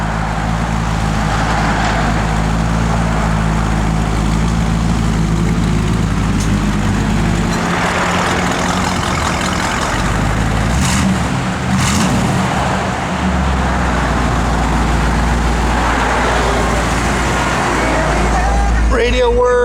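The engine of a 1956 Chevrolet 210 Wagon idles with a steady low rumble throughout, with louder bursts of noise partway through and a brief dip in the low drone near the middle.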